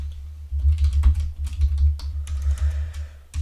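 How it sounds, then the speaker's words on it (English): Rapid, irregular keystrokes on a computer keyboard as code is typed, close and steady for several seconds with brief pauses, no voices. "what this allows us to do is we can now type in multiple lines at once."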